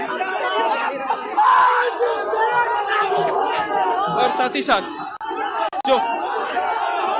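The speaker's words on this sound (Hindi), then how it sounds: "भीड़ है जन सैलाब है" A large crowd of Chirag Paswan supporters at Gandhi Maidan in Patna roars and shouts in dense, continuous waves, loud and close, with a reporter talking over the din.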